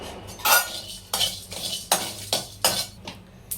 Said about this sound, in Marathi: आता आपण जो गरम मसाला आहे अख्खा तो भाजून घेणार आहोत।